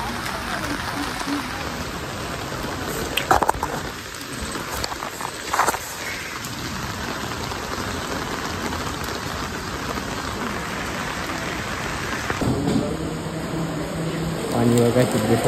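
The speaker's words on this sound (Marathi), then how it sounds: "पाऊस पडतलाय" Rain falls at Siddheshwar in a continuous steady patter with a few brief louder knocks. A faint hum lingers in the background.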